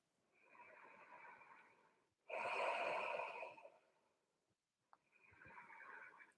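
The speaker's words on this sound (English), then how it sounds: "So breathing in and out through the nose." Slow breathing in and out through the nose during a children's yoga relaxation, with a soft inhale, a louder fuller exhale, a pause, then another gentle breath, close and alone.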